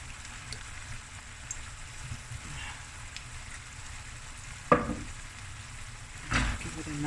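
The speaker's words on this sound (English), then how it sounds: "Give it a nice fry up." Lamb knuckle frying in a pan with soy and oyster sauce, a continuous close sizzle with occasional sharp clanks and louder bursts as the meat is stirred and moved.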